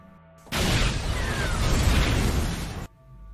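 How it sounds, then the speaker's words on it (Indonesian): A sudden loud blast erupts into a roaring, sustained rumble lasting a couple of seconds before cutting off abruptly. "Ledakan itu membuat kegaduhan di sana"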